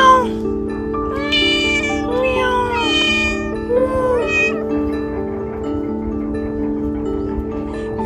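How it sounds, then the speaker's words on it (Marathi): Pet cat at a village house near a hilltop fort, meowing several drawn-out times close by over a steady background hum, then falling quiet. "हे मांजर बघा मित्रांनो,"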